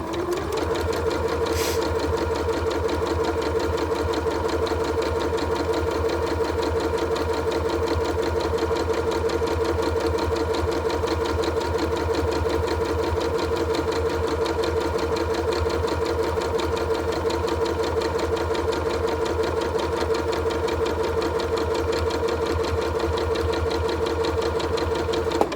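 A sewing machine stitches a quilt seam at a quarter-inch allowance, running at a loud, steady, even whir for the whole stretch, close up and continuous with no talking.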